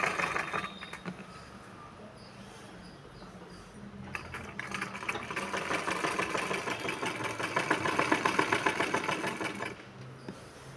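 A sewing machine stitches a sleeve onto a blouse at a half-inch seam, its motor whirring steadily in a close, continuous run that speeds up and grows louder toward the end before stopping.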